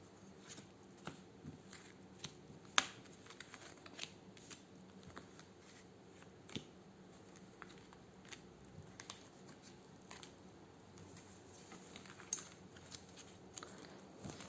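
Playing cards in a nine-card tarot-style reading are shuffled and laid out, giving faint, close soft flicks and slaps spaced irregularly over a quiet background.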